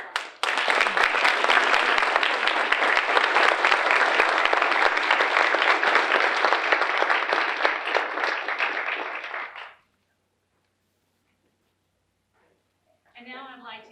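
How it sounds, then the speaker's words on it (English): Audience applause at a university homecoming crowning ceremony, a loud, dense burst of clapping from a large crowd that holds steady for about ten seconds and then cuts off abruptly. A few seconds of silence follow before a voice begins speaking. "All right, one more round of applause."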